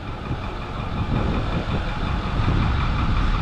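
Massive train engine idling, heard from inside the cab: a steady low rumble with a faint knocking pulse, fairly loud and continuous with no talk.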